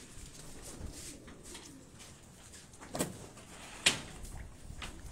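Pigeons in a loft in Gulshan-e-Maymar, Karachi, coo faintly against a quiet room tone, with a couple of sharp knocks like a door or cage being moved.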